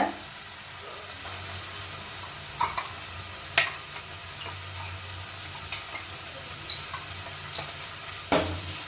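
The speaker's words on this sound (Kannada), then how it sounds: "ಸ್ವಲ್ಪ ಹಸಿ ಸ್ಮೆಲ್ ಹೋಗೋ ಗಂಟ ಹುರ್ಕೊಳ್ಳೋಣ" A ground masala paste for potato gravy fries in oil with tomatoes, giving a continuous soft sizzle broken by occasional scraping clicks of a spoon stirring against the pan, close and moderately quiet.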